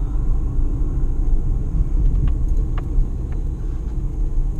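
A Ford Fiesta drives along in second gear, giving a steady low engine rumble with road noise and faint light clicks, heard from inside the car.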